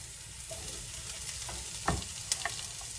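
Small Yukon Gold potato pieces with skins on cooking in a pan for corned beef hash, a soft steady sizzle with a couple of brief utensil clicks.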